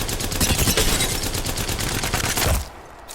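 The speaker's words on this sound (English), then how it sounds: "Here's my attempt of shooting a dummy at, I'll go 30 meters." A Havoc rifle in Apex Legends fires a rapid automatic burst at a training dummy 30 meters away, loud evenly spaced shots for about two and a half seconds before cutting off to quiet.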